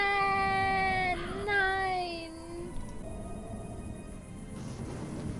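A cat meows in the video game Fran Bow, long, wavering, drawn-out cries, two or three calls in a row, followed by quieter background sound.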